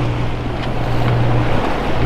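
A sailboat motoring along on the Atlantic, with a steady low engine drone beneath continuous wind noise and the wash of waves against the hull, all constant and fairly loud.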